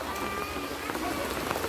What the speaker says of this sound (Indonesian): Masih hujan di kediaman orang tua Nia Kurniasari ini